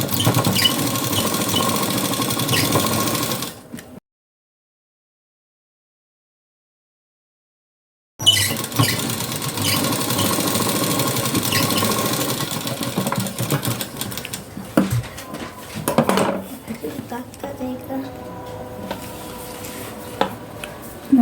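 Sewing machine stitching the front part of a blouse, steady mechanical whirring for about four seconds, a pause of silence, then longer stretches of stitching with uneven bursts and a few clicks, no talking.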